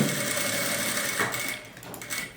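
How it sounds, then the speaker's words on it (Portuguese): Sewing machine stitching bias binding onto fabric for a baby's toiletry bag with a portable changing mat, a steady mechanical whir that runs near and fairly even before easing off toward the end. "Ó, aí fiz a primeira costura"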